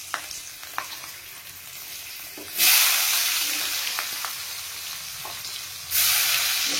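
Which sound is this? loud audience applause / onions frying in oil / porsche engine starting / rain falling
onions frying in oil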